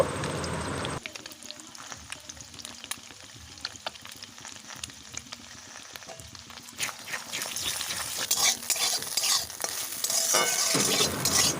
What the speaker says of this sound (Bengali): ডিমের মধ্যে নুন হলুদ দিয়ে হালকা করে ভেজে নামিয়ে নেব